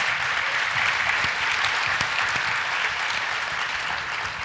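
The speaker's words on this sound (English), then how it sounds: "Yes, round of applause." Sustained applause from a large audience at a 2019 foundation summit, a steady dense wash of clapping that holds at an even level from start to finish with no voices over it.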